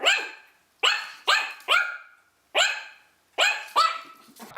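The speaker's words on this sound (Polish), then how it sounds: "Pies gdzieś tam szczeka" A dog barks nearby in a series of sharp, loud single barks, some closely paired and others separated by short pauses, alone without speech.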